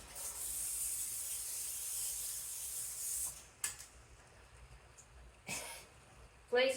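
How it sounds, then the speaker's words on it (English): Non-stick cooking spray hisses onto a cookie sheet in one steady burst of about three seconds, fairly close and alone, followed by a few brief clicks and knocks as the can is handled. "Or it's non-stick cooking spray."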